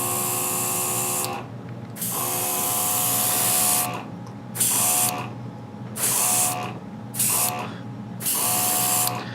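Airbrush hissing in repeated bursts while paint is sprayed onto miniatures, loud broadband spray pulses of about one to two seconds separated by short pauses, with a steady compressor hum running underneath throughout.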